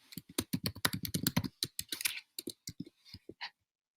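Quick clattering keystrokes on a computer keyboard, a dense run of taps followed by sparser clicks before stopping, close and fairly quiet with no talk.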